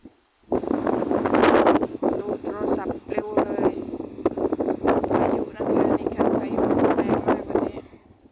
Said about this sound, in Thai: วันนี้ลมแรงมาก